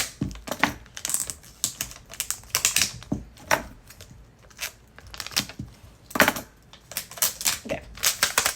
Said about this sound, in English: I'm just taping the top once again